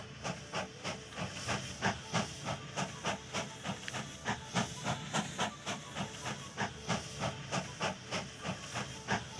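A steam locomotive starts up in the railroad strategy game Mashinky, puffing out a steady run of rhythmic chuffs over a continuous steam hiss, close and even, with no voices.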